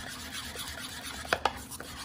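Mayonnaise being stirred in a bowl for crab cakes, giving soft wet scraping and rubbing strokes close by, with a couple of louder clicks of the utensil against the bowl.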